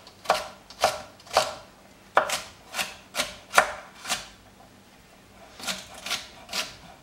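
A knife chops on a cutting board in crisp, separate strokes, about a dozen in short bursts with pauses, close and fairly quiet, with no talking.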